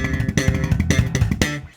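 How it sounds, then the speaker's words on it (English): Slap bass guitar playing rapid machine-gun triplet licks: dense percussive thumb-and-pop bursts in quick repeated clusters, loud and close, with no talking over it. "the must-know technique for playing those machine gun triplet licks that sound like this"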